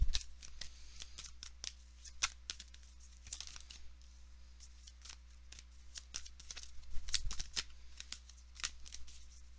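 Tarot cards shuffled and handled close to the mic, giving rapid papery riffles and flicks in uneven clusters over a low steady hum, with no speech.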